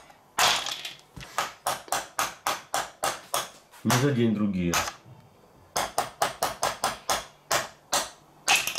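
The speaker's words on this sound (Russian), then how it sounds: "Берем молоток и выбиваем." A toy plastic hammer knocks ice blocks out in a Don't Break the Ice penguin game, sharp close taps in quick bursts of several, with a child's short spoken phrase breaking the rhythm midway.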